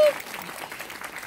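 Brief applause from an audience at a business seminar: a short, fairly faint patter of clapping that follows a sharp tone at the start.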